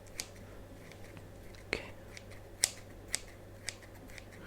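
Scissors snip close to the mic during a fantasy medical ASMR roleplay of head-wound care, with several crisp, separate cuts spaced over a few seconds against a quiet, humming room, and a soft voice speaks briefly.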